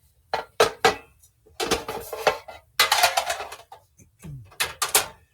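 Metal baking pans and flat cookie sheets are handled and set down in a kitchen, producing loud clattering bangs and scrapes in irregular bursts, with brief rattles in between.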